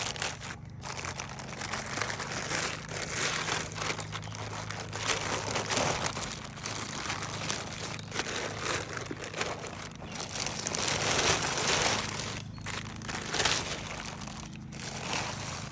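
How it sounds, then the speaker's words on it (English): Plastic wrap is peeled off an eco printing bundle that sat for eight days, giving a steady close crinkling and crackling with soft, rain-like rustles and no speech. "And I'm just going to take the plastic off."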